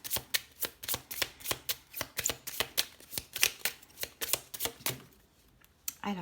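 Tarot cards are riffled and shuffled in a quick steady run of crisp flapping slaps, close to the listener, before the shuffle stops abruptly and a single card jumps out.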